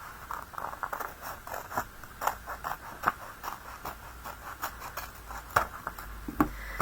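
Scissors snip cardstock for a slimline card, a steady series of short, crisp cuts in an irregular rhythm, close and fairly quiet, with no voice over them.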